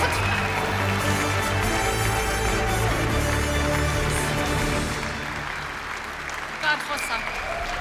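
Loud, dense applause fills a hall at the Anahit film awards ceremony, sustained for several seconds before tapering off, with a voice briefly audible near the end.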